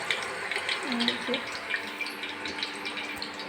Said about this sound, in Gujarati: પાણી પડે.